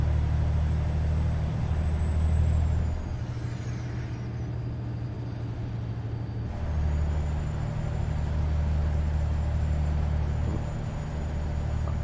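Freightliner truck with its default engine sound in a trucking game mod, a steady low diesel rumble that eases off and builds again, with a brief air-brake hiss midway and no talk.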